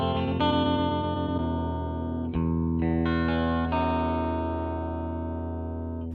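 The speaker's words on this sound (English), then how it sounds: "So that sounds a little bit like a ring mod for some reason to me." A Red Panda Particle V2 granular delay pedal processing a sustained tone into a glitchy, metallic, ring-modulator-like texture, with layered harmonic tones that step and shift pitch several times over a continuous, steady-level stretch with no talking.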